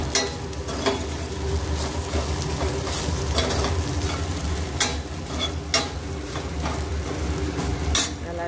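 Okra frying in oil in a pan with chili powder as it is stirred, a constant sizzle broken by sharp scraping clinks of a spatula against the pan at irregular intervals.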